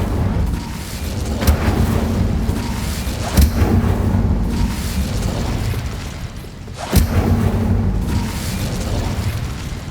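Cast in Hogwarts Legacy, the Incendio fire spell bursts out in several loud, booming whooshes, each one a sharp blast that trails into a sustained roar of flame over a low rumbling background.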